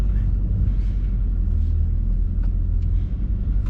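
A Mercedes E63s with Stage 2+ tuning, downpipe, intake and CPC software, running in comfort mode with the exhaust valve open on a test drive: a deep, steady close engine rumble with no talk.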